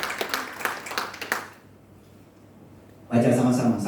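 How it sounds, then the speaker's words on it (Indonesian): Church congregation breaks into applause, a dense burst of clapping that stops, leaving a quiet pause before a voice comes in. "Tepuk tangan buat Tuhan Yesus"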